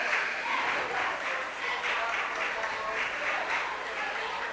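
Spectators in a high school gym at a Springfield versus Wiley boys basketball game, stirred up by cheerleaders, make a steady wash of applause, clapping and crowd noise that holds at an even level throughout.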